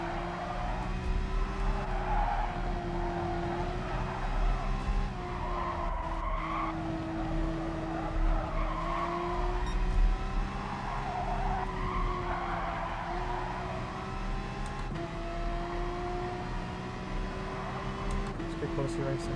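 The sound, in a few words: race cars skidding in video game GT Sport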